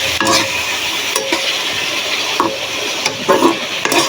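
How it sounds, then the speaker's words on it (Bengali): Potatoes frying in a pan with onion and chili, a steady close sizzle with repeated scraping stir strokes at an uneven rhythm. "পেঁয়াজ মরিচের সঙ্গে ভেজে নিচ্ছি।"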